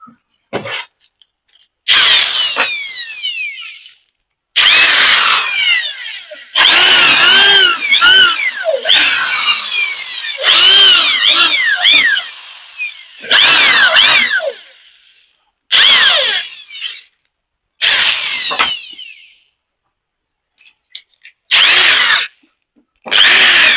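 A router cutting screw slots in wood, repeated loud high-pitched whining bursts of the spinning bit biting into the timber, separated by short silences, close and alone.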